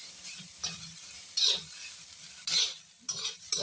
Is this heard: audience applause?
no